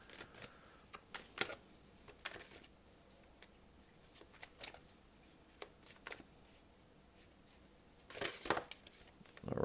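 Tarot cards being shuffled and drawn for a reading, a run of soft papery riffles and sharp card snaps, close and fairly quiet, with a denser burst of shuffling near the end and no talking.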